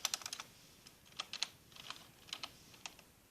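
Someone types a search on a computer keyboard: quick, irregular bursts of close, faint key clicks with short pauses between them.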